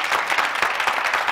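Studio audience applause for professional agency models on a French-language TV show, a dense, steady wash of many hands clapping, loud and continuous through the brief moment.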